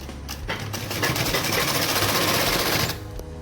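Sewing machine stitching a salwar, a fast mechanical whirring clatter that starts after a brief pause, runs steadily close up for about two seconds, then stops, with no talking.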